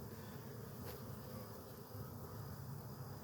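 Honey bees buzz steadily and densely around a hive during beekeeping, a continuous close drone with no pauses and no voices.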